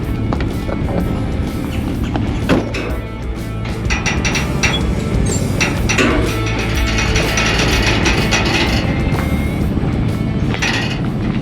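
A Badland 12,000-pound winch drags a 1955 Chevy truck onto a trailer, giving a continuous grinding, ratcheting mechanical drone with scattered clanks and rattles throughout.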